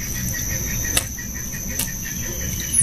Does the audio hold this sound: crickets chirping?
yes